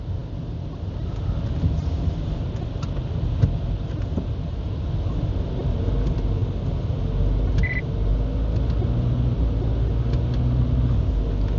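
Car engine on a dyno during a pull, making about 613 Nm of torque, producing a steady, loud low rumble that holds throughout, with a brief electronic beep partway through and no talk.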